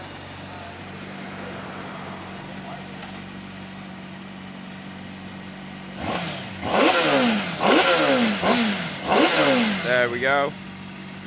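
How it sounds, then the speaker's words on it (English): A Honda CBR Fireblade motorcycle starts up and gives several sharp throttle blips, loud and close, rising and falling after a low hum, with someone speaking briefly over it. "And that is the CBR Fireblade."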